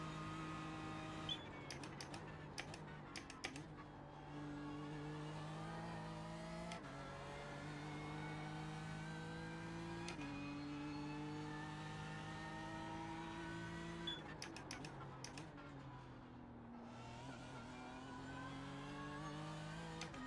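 A BMW GT3 race car in the iRacing simulation at Bathurst screams through repeated rising gear pulls, with quick upshift cuts and downshift blips, a loud, close engine note running continuously throughout.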